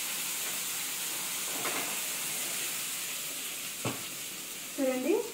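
Okra frying in a pan for a ground okra chutney gives a faint, even hiss of oil with a single stir knock midway and a brief tonal sound near the end.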